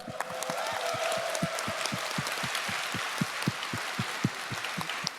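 A crowd applauds the competing esports teams at the Final Fantasy XIV Fan Festival in Berlin, a steady wash of clapping with sharp individual claps popping out across the whole stretch.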